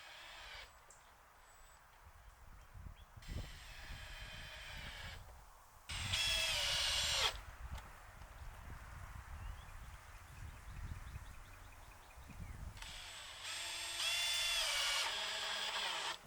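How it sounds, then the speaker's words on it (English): Power drill driving screws into wooden 2x4 studs for a workshop-built garden bin, in several short whirring bursts with pauses and handling noise between them, at moderate distance. "Then I used screws to attach the 2 outer pieces."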